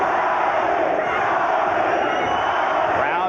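A boxing arena crowd roars and chants for Arturo Gatti during his fight with Tracy Patterson, a dense, loud, unbroken wall of voices that holds steady throughout.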